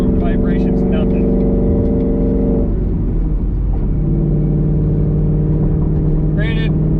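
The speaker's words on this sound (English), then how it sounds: "So you hear all that extra vibration thanks to the transmission being basically solid." A 2018 Mustang GT with a solid-mounted Tremec Magnum XL transmission gives a loud, steady droning engine hum and vibration from inside the car, with a brief shift in pitch partway through.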